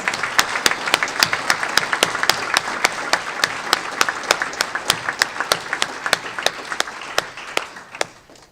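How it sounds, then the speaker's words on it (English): An entrepreneurship hall of fame ceremony crowd applauds the inductees, a dense wash of clapping with a few sharp, regularly spaced claps standing out, gradually fading near the end. "Can we just give one more big round of applause for all of our inductees?"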